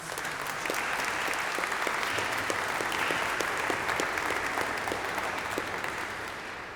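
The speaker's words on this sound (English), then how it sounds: "So if you give yourself a big round of applause." Audience at an event at the American Church Berlin breaks into sustained applause, steady many-handed clapping at moderate volume that holds throughout and tapers slightly at the end.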